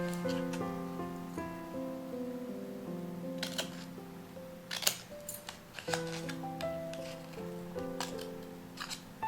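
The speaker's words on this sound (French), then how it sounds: "On va ensuite couper les parties que l'on a envie d'utiliser." Scissors snipping a waterslide decal sheet into pieces, several crisp close cuts heard over soft background music.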